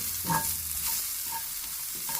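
Huitlacoche, the Mexican corn fungus, fries in a pan with a steady close hiss and sputter, plus a soft stirring knock near the start and faint crackles throughout, with no talking.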